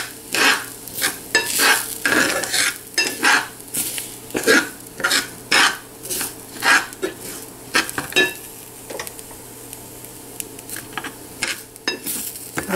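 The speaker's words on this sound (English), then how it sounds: "And let it roast for 4 to 5 minutes." Farali pundi batter roasting in a pan, heard as repeated scraping and stirring strokes with a soft underlying sizzle, steady and close, without voices.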